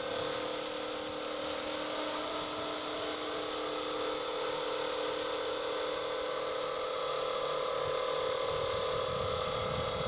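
A Roban MD500 Little Bird 450-size RC helicopter flies with its fuselage fitted, giving a steady, high-pitched whine of motor and rotor that stays constant throughout at moderate distance, with no talk.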